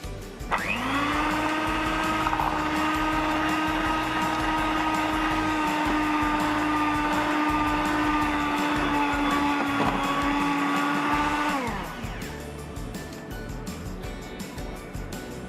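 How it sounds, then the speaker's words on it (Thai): An electric mixer beats banana chocolate cake batter in a bowl: a loud, steady motor whine with a bright harmonic drone holds evenly for about eleven seconds, then cuts off sharply. "หลังจากนั้นนะคะเราก็จะตีส่วนผสมให้เขาเข้ากันเลยค่ะ"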